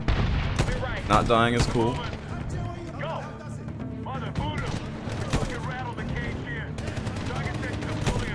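Rapid gunfire and explosions from the Medal of Honor (2010) video game in Tier 1 mode, loud and continuous, with bursts of shots layered under someone talking over the action.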